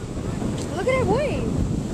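Ocean waves wash onto a beach under gusty wind buffeting the microphone, a steady rushing roar with a voice rising faintly through it.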